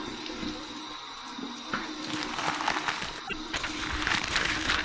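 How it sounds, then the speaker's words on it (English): Warm water splashes onto a face as a post-shave rinse at a sink, a few close wet splashing bursts over a soft running-water background. "Here's my warm water rinse."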